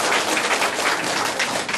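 Dense, steady applause from a gathered crowd welcoming a teacher at an art exhibition tea party, a continuous wash of many hands with no voices over it.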